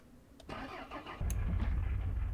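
A car engine in the video game Mon Bazou cranks with a starter whir, catches and settles into a steady, fairly loud idle rumble, preceded by a couple of small clicks and no speech.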